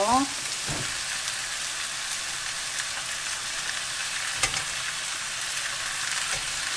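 Green pumpkin (zucchini) and garlic stir-frying in a pan give a steady, close sizzle, with occasional scrapes and clatters from stirring and no talking.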